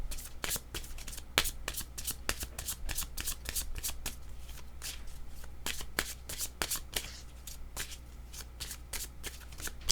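Tarot cards are shuffled by hand, close up, in quick repeated riffling bursts and flicks over a low steady background hum, with no speech.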